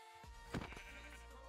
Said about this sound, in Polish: To owca jest.